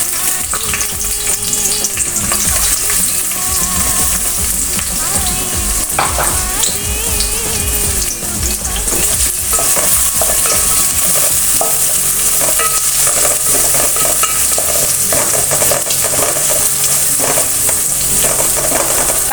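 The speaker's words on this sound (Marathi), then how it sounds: "आपल्याला थोडंसं तेल घालायचं आहे आणि आपल्याला आता कांदा टाकून घ्यायचा आहे" Onion frying in oil for a traditional village-style chicken curry, a loud, dense, continuous sizzle with constant stirring and scraping throughout, close by and without talk.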